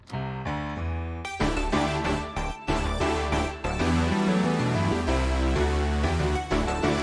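A full synth arrangement from a track opens on sparse sustained notes, then a rich layer of pads, arpeggiators, lead and bass lines comes in, thick and continuous to the end.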